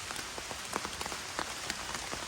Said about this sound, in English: More rain. Wasn't supposed to be rainy today.